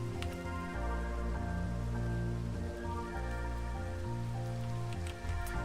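Minecraft rain storm: steady rain patters on a surface, dense and continuous, with a tonal layer of music playing underneath throughout.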